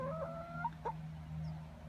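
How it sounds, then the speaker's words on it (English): Backyard chickens and hens cluck near a small farm, giving a few short throaty clucks and a brief squawk over a low steady background hum. "One of the animals that they have are chickens and hens."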